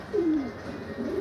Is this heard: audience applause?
no